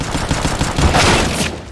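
A quick burst of rapid gunfire crackles in a first-person shooter game, several sharp shots packed into under two seconds with no voices over them.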